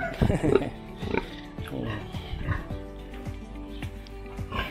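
A sow pig on a farm grunts in short, scattered bursts near the microphone, while a person speaks over the animal noise.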